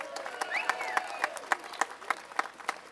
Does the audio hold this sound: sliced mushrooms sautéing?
no